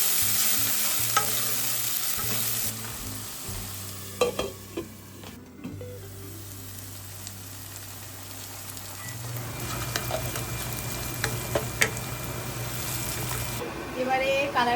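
Chicken fries with dried red chili and chopped onion in a pan, a steady close sizzle broken by stirring scrapes and knocks, with a low hum running underneath.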